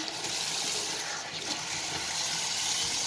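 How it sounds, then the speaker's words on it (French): Water runs steadily over a kitchen countertop during rinsing, a continuous broadband splashing rush heard close and fairly loud throughout. "Et après, on va commencer à rincer."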